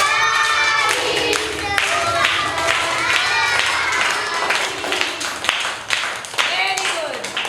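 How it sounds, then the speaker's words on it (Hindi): Schoolchildren in a classroom clap their hands in a sharp, rhythmic pattern while voices sing and chant loudly together throughout. "ताली।"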